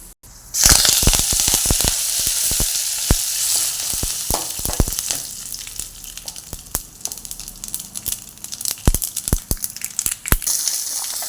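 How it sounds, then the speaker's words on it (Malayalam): Mustard seeds sputtering and popping in hot oil while cooking a pumpkin stir-fry, sharp irregular crackles bursting over a steady sizzle, close and loud. "നന്നായി കടുക് പൊട്ടിയിട്ടാകുമ്പോൾ"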